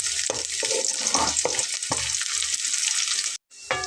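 Garlic frying in a pan gives a bright, continuous sizzle, close and loud, with soft scraping stirs every half second or so and a brief dropout near the end.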